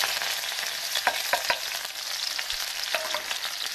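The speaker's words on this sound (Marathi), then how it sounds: "तेल गरम झालेलं आहे आणि मी त्यात टाकते हिरवी मिरची" Green chillies fry in hot oil, giving a steady bright sizzle at moderate level with a few sharper pops and crackles scattered through.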